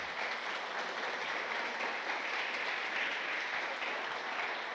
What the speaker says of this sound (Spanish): vamos a darle aplauso a Dios.